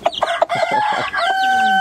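Loud, shrill chick peeping, a rapid series of high cheeps followed by a longer sustained peep, close by with no talking.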